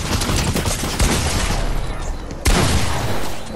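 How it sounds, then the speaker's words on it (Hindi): Rapid gunfire bursts from a Fortnite match on a practice map, dense and loud, with a sharp new volley near the end and a voice faintly underneath. "ओ यार उसने हेडशॉट मार दिया"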